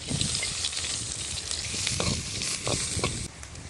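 Onions sizzle in hot oil with mustard seeds, fenugreek and garlic, giving a continuous close crackling with small pops and stirring scrapes. No one speaks.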